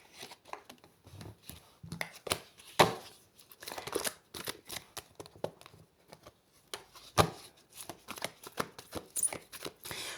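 Tarot cards being handled and shuffled close by, with quiet irregular riffles, flicks and soft slaps spread across the whole stretch.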